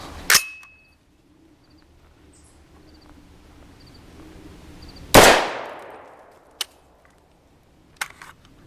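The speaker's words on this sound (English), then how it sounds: "And now for our supersonic 300 Blackout. It's 147 grain." A supersonic 300 Blackout 147-grain round is fired into a Level IIIA hybrid armor panel: one sharp, loud gunshot crack with a decaying tail, preceded by a small click and followed by a few faint metallic ticks.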